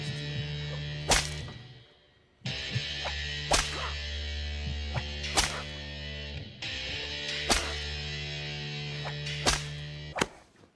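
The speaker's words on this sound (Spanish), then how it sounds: "hay un J-Cut con el sonido de los latigazos antes de que veamos el recuerdo de cómo fue azotado" Sharp whip lashes from a flogging flashback in the film Inglourious Basterds, three loud cracks cutting through a sustained dramatic music bed, spaced a couple of seconds apart.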